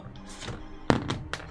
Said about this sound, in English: I dropped my other phone for a fucking spam call